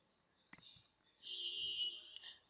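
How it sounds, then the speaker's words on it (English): A single sharp mouse click on a computer, faint and close, followed by a few soft taps against a quiet background with a steady high electronic whine. "You just have to click drop and then press OK"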